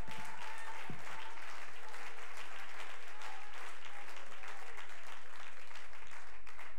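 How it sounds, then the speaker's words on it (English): A congregation bursts into dense, sustained applause during an evening church service, a loud continuous wash of many hands clapping together without a break. "let's give the Lord a hand clap of praise tonight."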